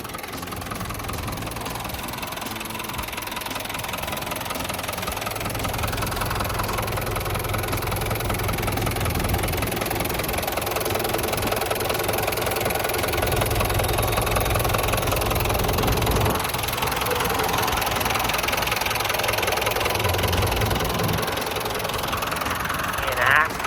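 A Hino diesel engine in a Tadano TR-100M-1 10-ton crane truck idles steadily with a low, knocking rumble, while someone talks over it the whole time.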